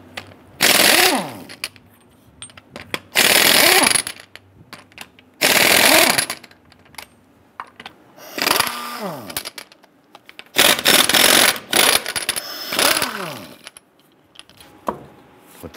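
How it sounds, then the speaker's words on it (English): An impact wrench with a 7/8 socket loosens and removes lug nuts on a 2002-2008 Dodge Ram 1500. It runs in about six loud rattling bursts, separated by quiet pauses. "let's go ahead and loosen and remove our lug nuts"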